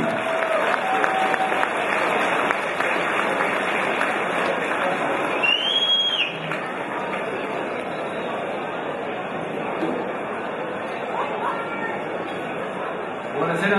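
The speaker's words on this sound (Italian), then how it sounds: "un caloroso applauso per il nostro presidente, Marco Rossi." A banquet audience claps for the new club president. The applause is steady and moderately loud, with chatter and scattered voices mixed in throughout.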